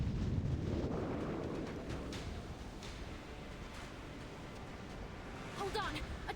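Enemy cannon fire strikes a ship during a naval battle in the video game Reverse: 1999, a heavy rumbling barrage with booming low impacts and wind-like roar, swelling again near the end.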